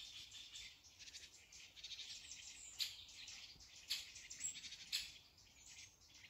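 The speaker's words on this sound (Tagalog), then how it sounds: "Nagkakasiyahan ng mga ibon." Faint, high twittering chirps from several birds drift in from a distance over a soft, continuous insect-like hiss, in a wet field after rain.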